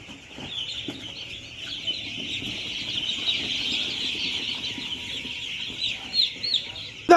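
A dense chorus of chicken chicks on a poultry farm peeping and chirping continuously, with scattered rustling and a few soft thumps toward the end.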